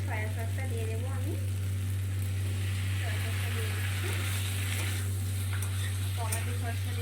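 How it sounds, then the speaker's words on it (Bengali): Onion and tomato frying in a pan for chilli chicken, just before soy sauce goes in, giving a steady loud sizzle with stirring scrapes and a constant low hum underneath. "তো দেখো ভাজা হয়ে গেছে, পেঁয়াজ টমেটো একদম।"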